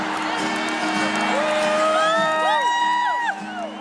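Large concert crowd at a show cheering and whooping, with rising and falling shouted cries over a sustained roar of voices, loud and close, fading slightly near the end.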